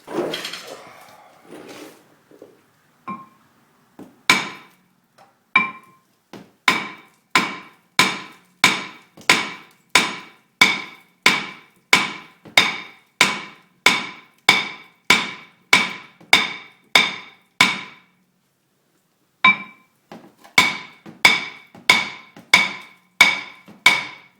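Steady, forceful hammer blows on a Cadillac Catera's front brake rotor, about one per second, ringing sharply, with a short pause before the pounding resumes.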